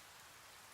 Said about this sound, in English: The rain won't let up.